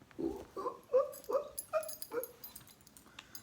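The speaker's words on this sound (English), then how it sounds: "These are my dogs." Pet dogs whimpering and whining in a string of short, high, nasal cries with a few yips, close by and moderately loud, fading toward the end with no talking.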